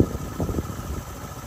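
A Fortress 160 motorcycle idles at night at Jariel's Peak, its engine running in a loud, steady, close-up rumble with a slightly uneven pulse.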